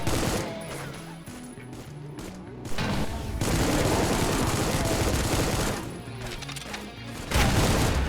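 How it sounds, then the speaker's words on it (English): Enemies in the Supplice video game fire sustained bursts of gunfire, loud and dense, mixed with game music and heavy impacts, with a brief voice heard among the shots. "who else is shooting me?"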